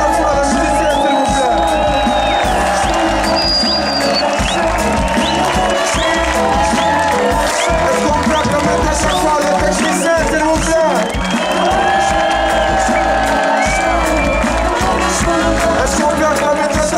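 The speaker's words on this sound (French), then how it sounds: "Est-ce que vous pouvez applaudir encore une fois la musique, s'il vous plaît?" At a live concert in 2019, a dense crowd cheers, whoops and claps continuously and loudly, blended with music and voices throughout.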